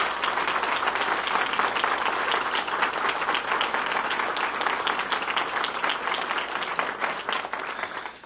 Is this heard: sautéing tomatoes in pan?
no